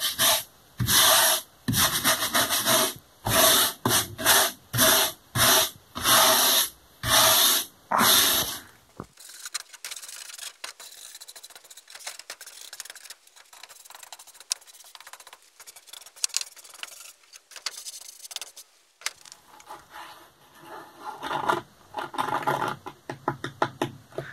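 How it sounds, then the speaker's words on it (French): A brush sweeping excess sand off freshly coated climbing hold volumes, first in a run of loud rhythmic rough strokes, then quieter scattered scratching and rubbing, picking up again toward the end. "on va brosser le surplus de sable et voir un peu ce que ça donne"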